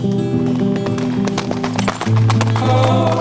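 Horses gallop over sandy, peaty training ground, with rapid hoofbeats thudding loudly and continuously under a layer of music.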